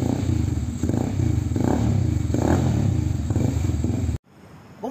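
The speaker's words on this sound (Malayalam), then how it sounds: "ഡ്യുവൽ എക്സോസ്റ്റ് ആണ് വരുന്നത് അപ്പോൾ നല്ല സൗണ്ടും കാര്യങ്ങളൊക്കെ ഉണ്ട്" An ATV quad bike engine with a dual exhaust idles steadily and close by, a loud, throbbing rumble with rhythmic pulsing that cuts off abruptly near the end.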